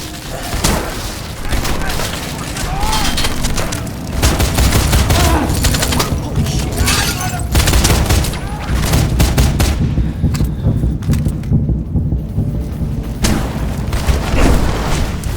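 Sustained gunfire and booming blasts from the Wanted: Weapons of Fate video game, loud and continuous throughout, with a brief thinning of the high crackle near the end.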